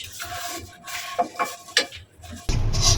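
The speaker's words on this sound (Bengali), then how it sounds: "আমি খুব আলতো হাতে সেমাইটা ভাজতেছি।" Vermicelli (semai) gently fried and stirred in a pan over low heat for an Eid dessert, soft scraping and light metallic taps of a spatula, then a sudden louder burst of sizzling in the last half second.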